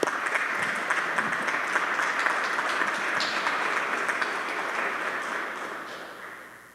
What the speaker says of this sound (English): Can we have another round of applause for our class?